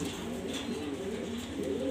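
Pigeons for sale cooing in a low, continuous throaty murmur nearby, steady and unbroken across the short stretch.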